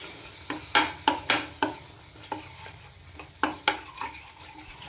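A spoon scrapes and clatters against a pan in irregular knocks while tomato-onion paste, with ginger-garlic paste added, cooks with a faint sizzle underneath, close by and with no talking.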